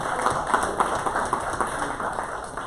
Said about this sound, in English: Can you please give a round of applause for each of these three individuals?